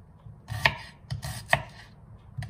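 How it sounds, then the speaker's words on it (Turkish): A knife chops onions on a board with a few sharp, separate thuds spaced about a second apart, close and clean against a quiet kitchen background. "Şimdi önce soğanlarımı doğruyorum."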